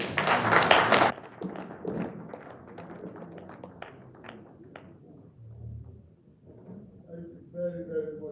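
A short, loud burst of applause that cuts off after about a second, followed by scattered taps and thumps with some talking.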